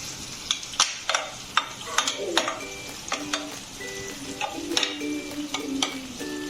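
Whole unpeeled garlic cloves fry in butter with a close, bubbling sizzle full of sharp spits and pops, plus a faint tonal whine in the background.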